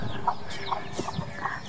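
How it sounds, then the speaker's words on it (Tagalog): Several chickens cluck in short, scattered calls at moderate distance over a steady outdoor background, with a few brief notes spaced through the moment. "Tingnan nyo, ang daming manok"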